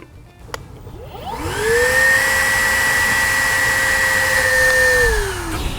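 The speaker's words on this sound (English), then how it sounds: "you're going to want to use a wet vac and vacuum it out" A wet vac spins up and runs steadily with a loud, even whine while vacuuming out an air-conditioner condensate drain line, then begins winding down at the end.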